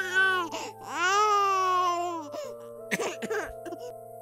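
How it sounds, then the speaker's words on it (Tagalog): A child crying inside a house, heard as a drawn-out wailing cry that rises and falls, then breaks into short sobbing bursts, close and clear against a quiet background. "narinig naman nila ang pag-iyak ng bata sa loob ng"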